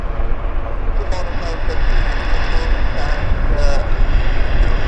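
Aircraft engines rumble steadily at Vancouver International Airport (YVR), a broad continuous roar from planes on the field, with people talking over it throughout.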